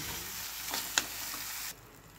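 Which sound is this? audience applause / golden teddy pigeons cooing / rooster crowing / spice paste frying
spice paste frying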